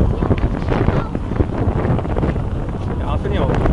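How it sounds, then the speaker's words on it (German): Strong wind roars across the microphone during a ride on the Nessie roller coaster at Hansa-Park, a loud, constant buffeting that fills the whole stretch. "Boah, es ist windig!"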